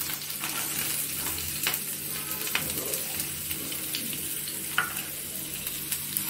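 Onion sautéing in a pan with garlic and green chilli for a tomato pasta, a soft continuous sizzle with occasional light scraping and clinks of a spatula, close but quiet, without talk.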